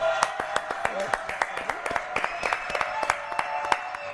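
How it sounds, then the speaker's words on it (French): An audience applauding guests on a French TV show, a steady run of distinct claps, moderately close, with talking and voices over the clapping throughout. "Applaudissements."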